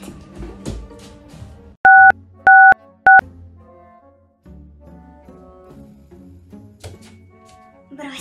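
Three short bursts of telephone keypad tones stand out loud and clear amid a quiet indoor scene with soft background movement.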